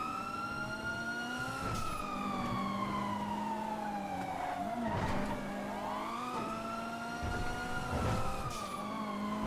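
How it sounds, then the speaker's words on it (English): Video game police sirens wail, rising and falling continuously, several overlapping tones sweeping up and down, with engine rumble underneath and occasional bursts of noise. "I'm hearing these sirens, bro."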